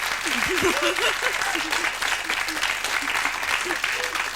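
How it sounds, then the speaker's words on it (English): Studio audience applause on a television chat show: a full, steady burst of clapping from many hands, with people talking and laughing over it. "round of applause, I think, would be most suitable"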